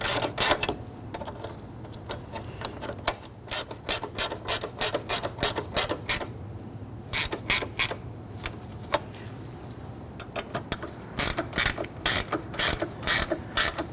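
A hand ratchet clicks in quick bursts of strokes, snugging down the battery hold-down bracket on a 2005-2021 Nissan Frontier with the 4.0L V6. The close, crisp pawl clicks come in short rhythmic runs separated by brief pauses.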